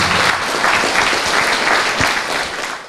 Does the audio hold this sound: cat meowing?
no